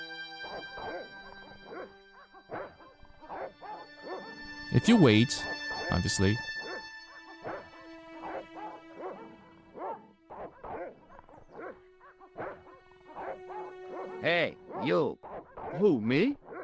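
Dogs bark and yip in a video game, brief bursts scattered through steady talk, with a louder cluster midway and again near the end.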